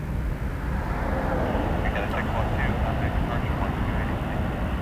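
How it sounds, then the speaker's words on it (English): Jet aircraft taxiing at Toronto Pearson Airport, a steady broad engine rumble and rush held at constant loudness throughout, with a voice speaking over it. "More taxiing aircraft down."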